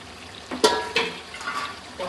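A spoon stirs two spoonfuls of homemade masala and Byadgi chilli powder in a pan for chicken biryani, making a few soft scraping and sizzling strokes that stand out briefly over quiet background.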